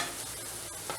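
Garlic and onions frying in a pan, an even, close sizzle with faint stirring, short and without speech.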